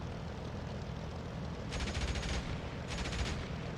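Machine gun on a WWII ground vehicle in DCS World fires two short bursts of rapid rattling shots over a steady background engine rumble.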